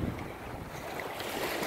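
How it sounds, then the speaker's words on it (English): Ocean waves wash in at a Florida beach, a broad continuous roar of surf with wind noise on the microphone. "That was a big wave."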